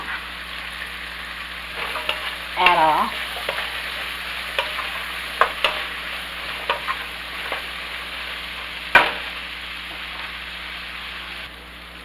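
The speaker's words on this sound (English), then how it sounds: "I let those veggies cook for about 10 minutes" Chopped vegetables for minestrone soup sizzle softly in a pot, a steady low frying hiss with a few scrapes and clinks of stirring and one sharp knock of a utensil.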